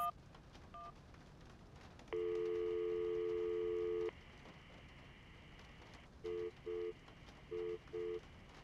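Phone-call tones in the Syberia adventure game: a short beep, a long steady dial tone lasting about two seconds, then four brief evenly spaced busy-signal pulses, all clean and moderately loud over faint background.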